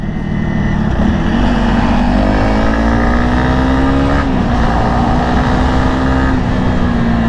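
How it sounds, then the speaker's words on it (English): Honda CRF 300 motorcycle accelerating hard to overtake on an open road, its engine note climbing steadily through the gears with a dip at a shift, loud and continuous under heavy wind rush. "can I overtake with this motorcycle?"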